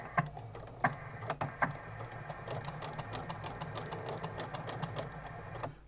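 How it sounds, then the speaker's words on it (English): A home sewing machine running a short back stitch, a rapid mechanical whirring with a few sharp clicks near the start, close and steady throughout. "So I'm just going to do a back stitch."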